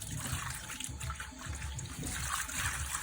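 Water sloshes and trickles continuously as it is scooped from a pot made of black scrap iron, a steady close liquid splashing with no talk.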